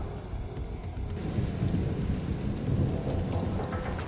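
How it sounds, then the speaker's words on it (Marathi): Heavy rain pours steadily in Latur district, Maharashtra, during a multi-day pre-monsoon downpour. Thunder rumbles low and continuously underneath, and the dense roar of rain builds and stays loud throughout. "लातूर जिल्ह्यात सलग 4थ्या दिवशी पावसानं जोरदार हजेरी लावली"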